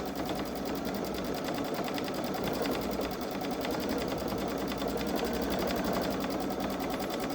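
A Babylock Solaris Vision sewing machine stitches an edge-to-edge quilting design at top speed, producing a fast steady mechanical hum and rapid needle chatter, close and continuous, with no voices.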